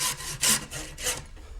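A large hand saw rasps through a golf ball in three or four quick, even strokes, close and fairly loud, with no voices.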